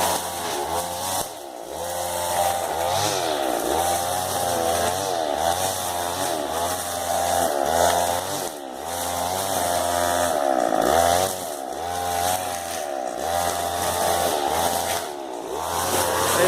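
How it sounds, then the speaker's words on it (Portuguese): A petrol brushcutter clears weeds in an organic banana plantation, its small two-stroke engine droning loud and steady for the whole stretch, with repeated swells and dips in revs as the cutting head bites into the growth. "Feito a poda do mato com a roçadeira."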